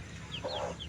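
A Brahma chicken gives a short cluck, with a few faint chirps, over a constant background hum.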